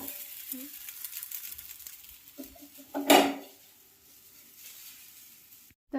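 A fasting-style thalipeeth flatbread is turned over in a pan. Faint sizzling and small utensil taps lead up to one loud scrape and clatter of the flip midway, followed by quieter sizzling. Brief voice sounds come near the end.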